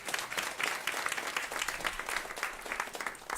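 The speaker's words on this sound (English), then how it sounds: "Please give him a round of applause." Audience applause following the introduction of a journalist and author at a climate and food waste talk, a steady wash of many hands clapping throughout, moderately loud and with no voices over it.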